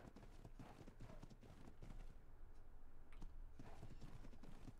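Horse hooves clip-clop steadily in ARK: Survival Evolved on the Aberration map, a continuous run of quick, fairly close hoofbeats lasting the whole stretch with no voice over it.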